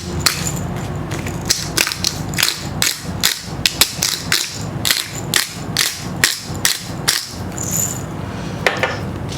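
A pepper mill cranks out a rapid run of dry clicking, ratcheting grinds, steady and close, while a salad is seasoned for Tuscan-style soup.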